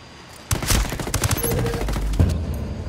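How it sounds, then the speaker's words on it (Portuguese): Heavy gunfire erupts in the Ghost Recon Wildlands video game, a dense burst of rapid automatic shots and explosions that starts abruptly and keeps going loud and close. "Estou sob fogo pesado."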